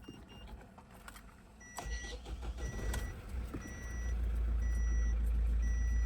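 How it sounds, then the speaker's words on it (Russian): A car with 160,000 km on it, left standing for two days, cold starts: a short starter crank leads into an engine settling into a low, rough idle, with repeating dashboard warning beeps over it. "Вот запускаем. Холодный пуск."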